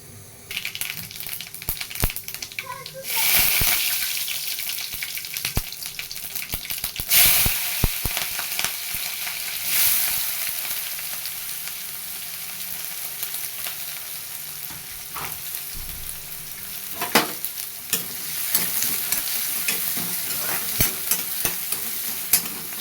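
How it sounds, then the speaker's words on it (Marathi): Food being sautéed in a pan at home, with continuous sizzling and frying under repeated stirring scrapes and occasional utensil knocks. It sounds close and fairly loud, and no one speaks. "चांगलं परतायचं त्याला"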